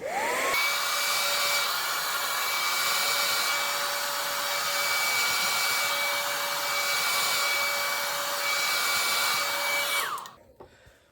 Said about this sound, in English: So I'm just gonna dry it a little bit